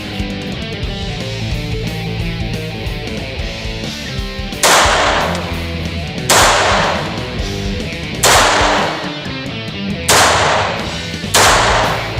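A 1987 Smith and Wesson 422 pistol fires copper-plated Aguila rounds at a shooting range: five sharp, loud single shots spaced a second or two apart over a continuous background noise bed.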